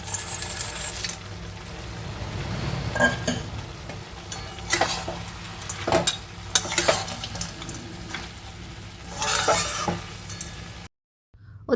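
Spinach cooks in a full wok with steady sizzling and frying hiss, broken by repeated scraping stirs of a utensil against the metal, loud and close, before a sudden brief cutoff near the end.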